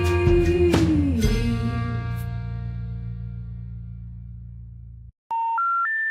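Three rising telephone-style tones, clean and electronic, come in quick succession at the end after a distorted synth chord decays into a low hum, with no talk.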